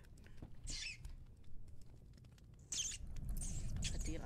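A rat scurrying in the horror video game Layers of Fear: faint, quick pattering bursts with small scratchy squeaks, coming in short spurts over a low rumbling background.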